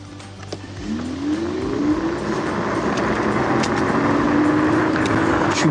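Angwatt T1 electric scooter with off-road tyres riding on cobblestones at about 25 km/h, a steady rising motor whine over continuous rolling and road rumble, loud and close throughout.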